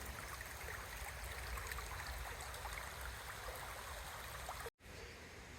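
A small, clean woodland stream in Pembrokeshire runs steadily, a continuous close rush and trickle of water with no voices, cutting briefly to silence near the end before the flow resumes.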